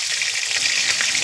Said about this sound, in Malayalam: കടുക് പൊട്ടുണ്ടോ മതേ? ഇത് അങ്ങോട്ടും ഇങ്ങോട്ടും തെറിക്കുന്നുണ്ടല്ലോ കടുകിന്റെ